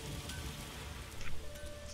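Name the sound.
rain in video game The Witcher 3: Wild Hunt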